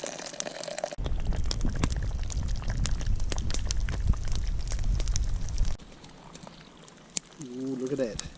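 Wood fire crackling and hissing in a cast iron Scotch bowl, with a dense roar of burning and scattered pops for several seconds before dying down, faint voice sounds near the end.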